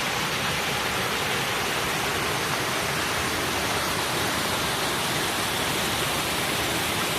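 Webster Falls, a waterfall near Toronto, roars as a steady, dense broadband wash of falling water, loud and unbroken throughout with no voices.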